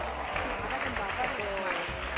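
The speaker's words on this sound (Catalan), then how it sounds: "Nois, un fort aplaudiment." A studio audience on a Catalan TV game show applauds in a steady, moderate patter while a voice talks over the clapping.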